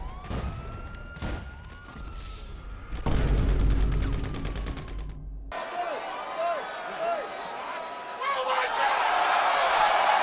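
Gunfire in the online shooting game GTA Online rattles out in sharp bursts, with a police siren wailing and game effects layered over a loud, busy mix.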